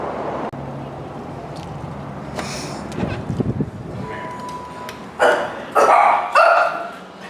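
Several sharp, high-pitched yips and barks from puppies in short bursts, close by, with background noise and a voice at moments.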